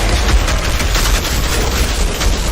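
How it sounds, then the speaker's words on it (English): The Earthborn Assault Rifle in Outriders fires a sustained automatic stream, loud and close, its rapid shots blending into a continuous rattling roar with no pauses. "It's the Earthborn Assault Rifle"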